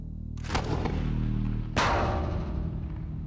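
An XM307 grenade launcher fires two heavy, booming rounds about a second apart, each a loud blast with a long rumbling tail.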